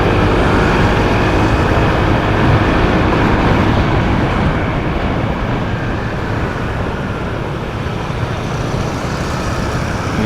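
Riding a Honda ADV motor scooter through traffic, with a constant loud roar of engine and wind noise close to the microphone that stays steady throughout.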